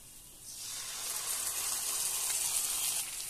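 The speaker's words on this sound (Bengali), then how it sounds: "আদা এবং রসুনটা ভালোভাবে ভাজা হয়ে গিয়েছে" Ginger and garlic sizzle in a hot frying pan with a steady broadband hiss that swells after the first half second as tomato paste goes in, then stays fairly even.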